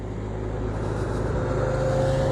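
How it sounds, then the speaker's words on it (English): Road traffic passing behind a junior cross country race course, a steady engine drone that builds slowly as a vehicle approaches, fairly close with no talk over it. "Watch the traffic behind you."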